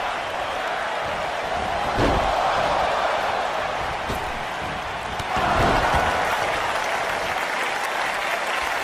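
A packed Tokyo Dome crowd in the WWE 2K23 wrestling video game roars and applauds loudly and continuously, swelling in two bursts partway through, with no talk over it.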